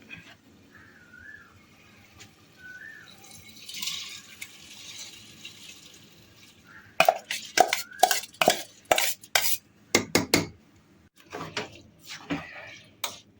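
Three glasses of ration rice being stirred in a cooking pot for chicken biryani, a quiet start giving way to a run of sharp scraping and clinking strokes against the pot, close and fairly loud.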